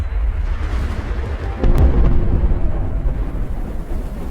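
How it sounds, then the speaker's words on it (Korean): A low, deep rumble of rolling thunder swells partway through and lingers, heavy and booming, with a faint hiss of rain or wind beneath. "그 뒤로 천둥의 낮은 소리와 번개의 섬광이 이어졌습니다"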